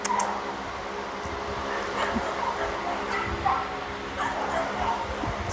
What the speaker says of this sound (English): I'll yell at the dogs to stop if they don't stop on their own